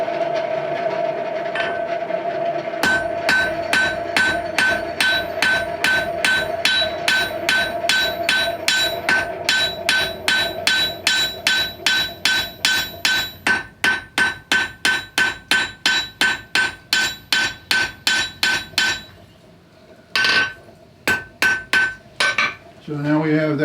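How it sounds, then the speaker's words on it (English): Blacksmith half blows on an anvil while shaping a hot piece: a fast, even train of ringing hammer strikes, close and loud, running for many seconds before breaking into a few final spaced hits. "we're going to do what we call half blows on the anvil"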